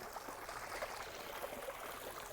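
Freshwater stream at a waterfall near Tadipatri, a faint, steady trickling and gurgling flow with soft bubbling accents, distant and continuous.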